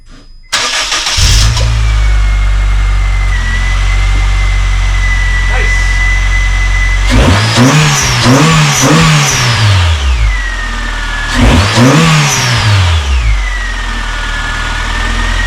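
A car engine cranks and catches, settles into a steady idle, then revs hard twice past 3,000 RPM, each surge rising and falling back to idle. Loud and close, with no talking.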